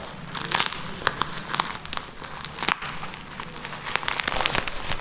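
Cardboard and plastic packaging of a mobile phone tripod box torn open and unwrapped, with continuous close crinkling and crackling punctuated by sharper tearing snaps.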